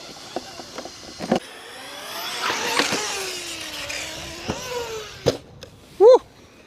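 A Rlaarlo Omni Terminator RC sub-basher truck on FTX Carnage wheels runs around a skate park, its electric motor whining up and down in pitch between sharp clattering impacts, with one loud close burst near the end.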